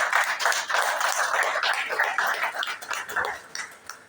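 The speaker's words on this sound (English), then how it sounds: "I want you to give our chairman a big round of applause." Dense applause from a crowd, steady and sustained for several seconds, with individual claps audible in the mix.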